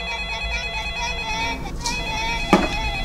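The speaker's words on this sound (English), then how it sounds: "This phone is calling again!" A telephone rings in a darkened flat with the power out: a steady electronic ringtone of layered tones continues through the whole moment, with a short bump of noise near the end.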